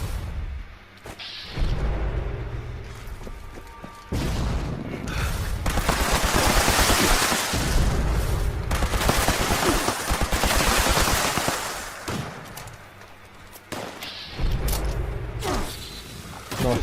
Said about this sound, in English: Quite good Junkie explosive laser rifle.